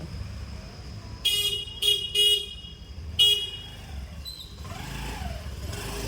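A friend arriving on a vehicle, with several short horn toots over a low running engine, followed by the motor idling nearby as it pulls up.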